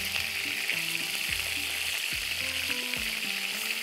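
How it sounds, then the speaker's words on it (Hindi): Macaroni keema frying in a pan gives a steady close sizzle with scraping stirs, while a few low tonal swoops rise and fall underneath, no voices present. "थोड़ा सा इसको कम करते हैं और इसको इस तरह से फ्राई करते जाना है"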